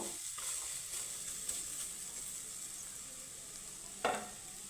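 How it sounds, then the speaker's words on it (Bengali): Jackfruit seeds coated in gram flour batter frying in a pan, a soft continuous sizzle with a couple of brief knocks, quiet and without talk. "তো এখন আমি একটু ভাজা করে নিব"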